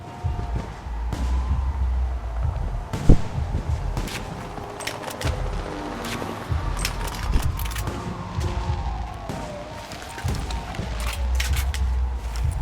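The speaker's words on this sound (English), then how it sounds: "Long firework sequence." Fireworks burst and crackle continuously in the video game Alpha Protocol, dense sharp pops and booms layered over a rumbling background for a long sustained sequence with no talk.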